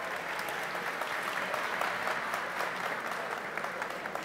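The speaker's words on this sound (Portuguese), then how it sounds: "E aquela salva de palmas aí, Juí!" Continuous applause from an audience at an award ceremony for a nativist music festival, steady and fairly dense throughout with no voices over it.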